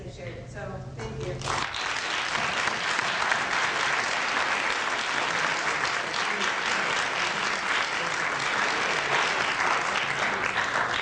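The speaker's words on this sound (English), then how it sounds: "I realize that we have not yet clapped for everyone" An audience at a women's roundtable bursts into sustained, loud applause after a short burst of speech, with steady clapping from many hands filling the room.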